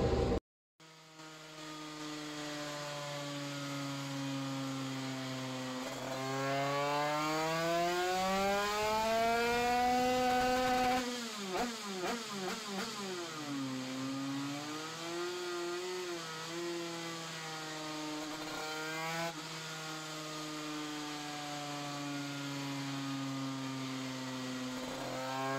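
A Derbi 100cc two-stroke motorcycle engine runs throughout a carburetor test, its pitch sweeping up and down as the throttle is blipped and revved, sustained and buzzing at close range.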